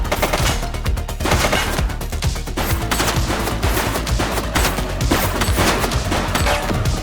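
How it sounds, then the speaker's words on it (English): Sustained automatic gunfire from The Precinct police video game, a dense, loud barrage of rapid shots with no pause, heard alone throughout. "He's shooting!"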